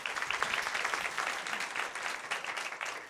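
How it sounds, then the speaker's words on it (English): An audience applauds at the opening of a policy panel discussion on poverty in America, steady, dense clapping filling the hall for a few seconds with no one speaking. "I always like when people applaud at the beginning"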